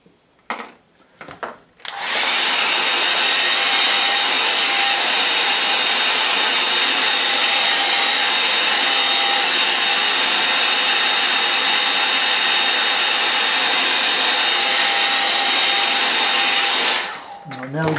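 A hair dryer blows steadily on a wet watercolour painting, a loud continuous whoosh running about fifteen seconds after a few brief handling knocks, then cutting off near the end.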